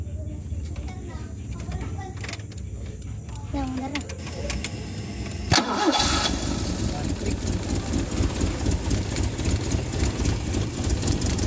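A Toyota 5K engine, freshly fitted with a new cylinder head gasket and valve seals, cranks and catches partway through, then settles into a steady, rumbling idle, with people talking over it before and after the start.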